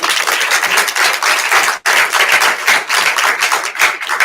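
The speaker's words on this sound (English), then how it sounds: "Please give him another round of applause" A lunch-and-learn audience claps for the speaker, a close, loud round of applause in uneven bursts with a brief break in the middle.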